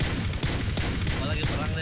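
A short stretch of close gunshots in PUBG Mobile crackles in quick, uneven bursts while a player talks over them.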